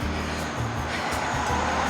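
A noisy car passes near a beach boardwalk in Australia, a steady close engine drone with low rumble that holds at an even level throughout.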